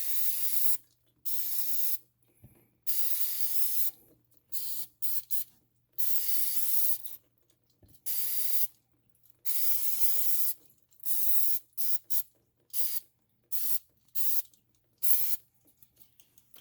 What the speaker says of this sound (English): we're just going to use brake cleaner and just spray the whole area down